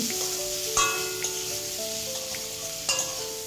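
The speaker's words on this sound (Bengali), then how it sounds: "দিয়ে আবারও আমি আলুটা ভেজে নেব" Thinly sliced potatoes fry in oil with salt and turmeric, a continuous close sizzle broken by a few sharp clinks of a spatula against the pan, with no talking.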